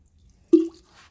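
Room-temperature water is poured into flour for Siddipet sarvapindi, giving a single short, soft plop up close followed by quiet.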